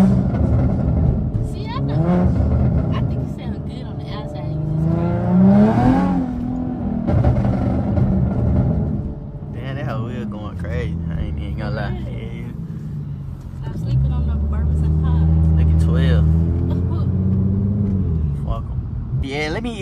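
An Infiniti G37 on 370Z wheels drives and accelerates, its engine rumble swelling and easing over the stretch, while someone talks loudly and almost continuously over the car noise.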